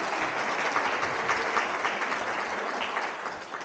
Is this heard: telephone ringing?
no